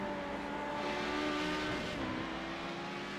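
LMP2 race car in a racing video game, a loud sustained engine drone with pitch shifting as the car passes close by, steady and continuous.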